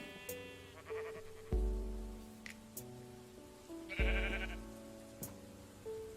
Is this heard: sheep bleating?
yes